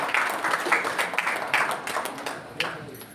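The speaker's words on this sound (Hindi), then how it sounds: "जोरदार ताली" Crowd applause at a Green Army environmental pledge event, a steady wash of clapping from many hands lasting throughout, fairly loud and continuous with scattered sharper claps.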